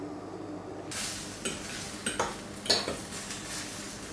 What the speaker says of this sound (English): the vegetables are still grilling for the last few minutes